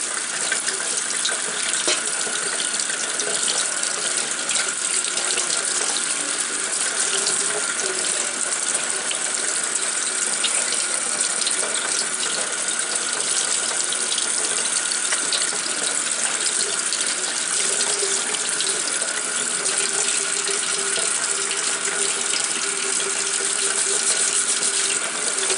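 A steady stream of tap water runs without pause, rinsing laser marking spray off a metal piece at a sink, with a constant close hiss and gush and faint clinks underneath.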